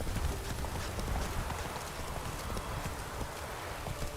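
A horse gallops in a video game, its hoofbeats a steady, close, fairly loud clip-clop running throughout with no talk over it.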